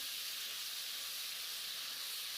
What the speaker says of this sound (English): You want to stir fry this over high heat until it changes color